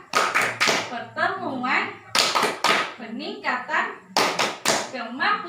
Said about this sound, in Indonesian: Jadi kita tepuk P2K dulu ya sebelum kita berakhir pada sesi ini ya